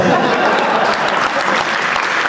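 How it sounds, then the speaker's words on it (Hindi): A crowd at a Hindi comic poetry recital applauds loudly and steadily, close, continuous clapping filling the space with a faint voice underneath. "इस जोड़े पर फिर आपकी तालियां चाहता हूं"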